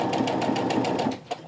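A sewing machine runs steadily while stitching strip-pieced half-square-triangle quilt pieces, a close, continuous rapid whir with even needle pulses that slows and stops near the end, with a brief click after.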